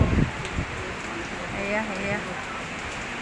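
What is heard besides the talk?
rain and wind storm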